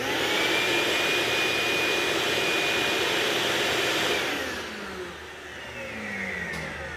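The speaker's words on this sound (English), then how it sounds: "as we turn the shop vac on" A shop vac powered by an AFERIY P280 2800W power station roars with a steady, loud whine close by, then winds down as it is switched off, with no talking.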